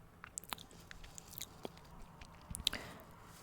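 Crisp, close bites and chewing of CHAZZ potato chips come as scattered crunches and squishy mouth sounds over a soft, quiet background, with no talking.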